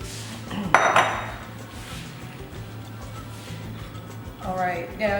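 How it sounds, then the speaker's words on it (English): A mixing bowl is grabbed and set down in a home kitchen for chocolate chip cookie dough, giving a sharp clink and rattle against the counter, followed by quieter handling and a little background sound. "Now I'm gonna grab my bowl so we can get mixing."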